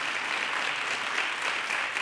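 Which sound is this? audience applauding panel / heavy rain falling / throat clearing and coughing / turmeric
audience applauding panel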